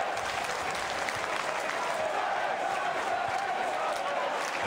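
A stadium crowd in the football game PES 2010 applauds steadily, a dense, sustained wash of clapping and crowd noise with commentary voices underneath.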